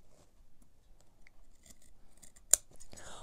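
Scissors snip through fabric into the corner of a sewn laptop bag, with faint quiet rustling building to one sharp close cut near the end and another soft snip after.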